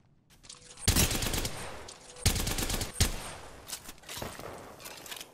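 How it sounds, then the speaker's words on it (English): Incoming gunfire strikes a player in Apex Legends, with bursts of rapid shots and impacts arriving in loud clusters over several seconds and brief pauses between volleys. "I'm getting shot"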